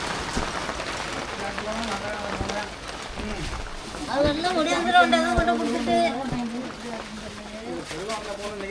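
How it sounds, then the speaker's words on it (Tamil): Heavy rain begins falling during a cold, wet outdoor blanket handout, a broad steady hiss of rain on surfaces under several people talking loudly nearby. "மழை ஆரம்பம்"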